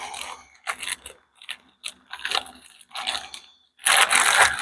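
A grease zerk fitting being threaded into a ball joint on a Skyjacker 2-inch drop A-arm for a 1988–98 Chevrolet K1500 gives short, close ratcheting and crunching bursts separated by brief pauses, ending with a louder, longer burst.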